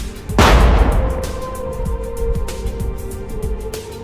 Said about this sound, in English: The drone hits the vehicle head-on, causing it to stop, followed by a powerful explosion